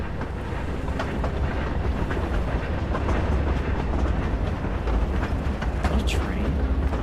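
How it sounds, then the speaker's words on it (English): A train rumbles past in a video game set in the Forbidden Forest, a loud continuous low roar with faint rhythmic clatter and a brief rising whine near the end. "I think that was a train."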